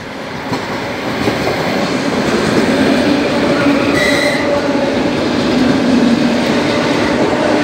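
A Moscow tram rolls past near its depot with a loud, continuous rumble and rattle of wheels on rails, broken by brief tonal squeals, holding close and steady for several seconds.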